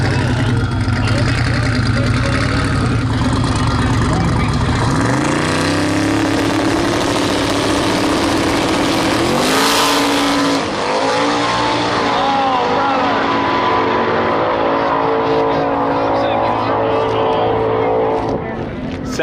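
A Chevy Nova drag car engine revs hard and loud at a drag racing event, roaring continuously with pitch sweeps as it builds, while people talk over it.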